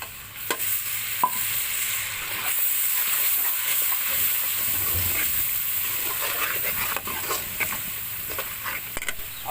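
Masala spice mix frying in a pan, a steady bright sizzle and hiss with occasional crackles and stirring clicks, continuous and close throughout.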